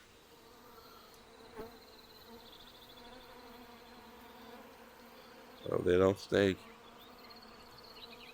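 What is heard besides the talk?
bees buzzing in VRChat video game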